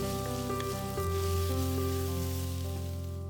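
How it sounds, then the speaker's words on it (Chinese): Dried radish strips sizzling as they are stir-fried in oil in a wok, a steady close frying hiss with low hum throughout and no talking. "再把萝卜干放进来炒香"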